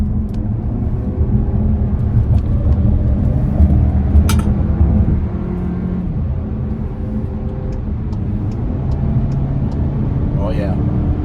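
A 2023 VW Arteon SEL 4motion sedan accelerates onto a highway, giving a loud, steady rumble of engine and road noise that swells slightly while a voice talks over it.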